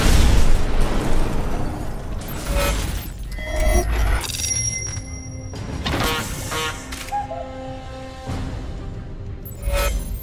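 Game explosions from Batman: Arkham Asylum, several loud bursts and booms with shattering debris, the strongest at the start and others spaced through the stretch over a constant game soundscape.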